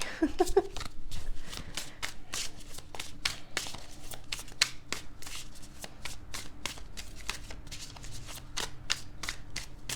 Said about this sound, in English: Couple more shuffles here.